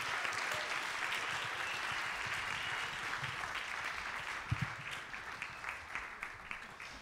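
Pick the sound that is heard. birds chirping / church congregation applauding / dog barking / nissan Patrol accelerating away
church congregation applauding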